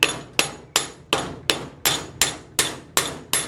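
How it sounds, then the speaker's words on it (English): A hammer strikes a hammer head again and again to knock a cork out, ten sharp metallic blows at a steady rhythm, loud and close with no voices. "So I'm hitting this thing with the hammer"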